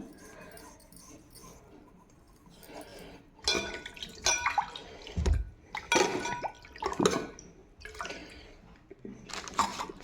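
Water is poured and sloshed while the washed puja idols are handled, giving intermittent splashes and drips in uneven bursts with quieter gaps, close by.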